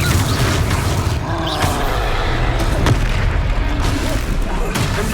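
A Confringo spell explosion in Hogwarts Legacy, with loud booming blasts and rumbling battle noise sustained throughout, dense and close, under the game's ongoing combat sounds.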